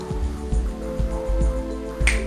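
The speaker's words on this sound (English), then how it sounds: "snap your fingers, the king jumps to the top" A few sharp finger snaps during a close-up card trick, spaced roughly half a second apart over a low steady hum, with a crisp final snap at the end.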